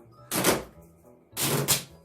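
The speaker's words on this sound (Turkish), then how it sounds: "şimdi ben güzelce Cemal buraya bantlayacağım." Adhesive tape is ripped off a roll and stuck down twice, two loud, close, raspy bursts about a second apart with quiet gaps between.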